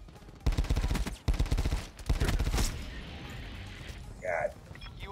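Burst fire from the Tigershark weapon in a first-person shooter video game, in several rapid clustered volleys in the first half, with game effects and background sounds behind them.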